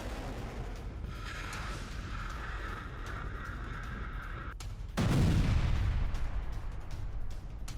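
Missile attack explosions in Ukraine, around Zaporizhzhia and Lviv: a steady rumbling din of blasts and gunfire-like cracks, then a sudden heavier boom near the end that lifts the loud roar further.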